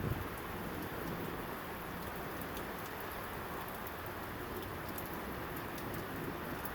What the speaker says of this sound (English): we're getting some good rain